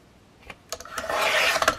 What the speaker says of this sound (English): I am going to cut all of these short tabs off